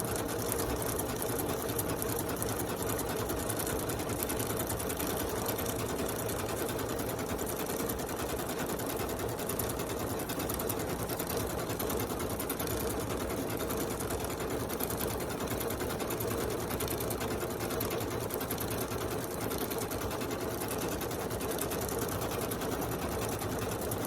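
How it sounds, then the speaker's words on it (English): A sewing machine stitching out a quilt label hums continuously and evenly at close range, with no pauses and no talking. "I'm going to go ahead and let it stitch it out."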